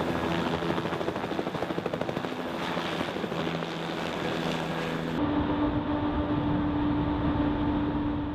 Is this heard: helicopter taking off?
yes